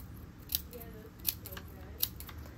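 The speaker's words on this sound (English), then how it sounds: "I'm just going to kind of cut this one into strips and then just little pieces" Scissors snip through a paint chip to cut it into strips, three crisp separate cuts spaced about evenly, quiet and close with no talk.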